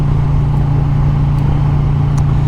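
Harley-Davidson 2020 Road Glide Special with a 128-inch big bore kit, a loud steady engine drone throughout without pauses, close and continuous, with no voices over it.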